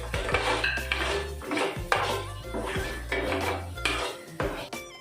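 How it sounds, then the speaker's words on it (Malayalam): Semiya upma being stirred in a metal pan with a spoon, a run of loud, close scraping and clanking strokes in steady rhythm with no talk. "ഒന്ന് ഇളക്കി കൊടുക്കാം"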